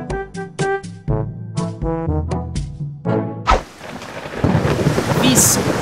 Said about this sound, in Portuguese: parece que tá caindo uma grande chuva lá fora